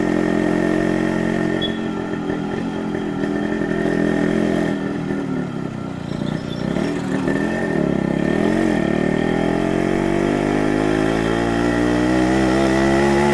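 Exhaust note of a motorcycle in a dealer setting, apparently a classic model such as an RX 100, RXZ or Yezdi: a loud, close, continuous engine drone that dips midway and then rises as it revs.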